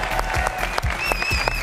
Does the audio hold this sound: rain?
no